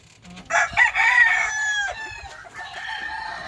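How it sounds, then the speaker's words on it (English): A gray hen on a farm gives a short run of loud, close clucks and squawks, then quieter calls trailing off. "The first one is a gray hen."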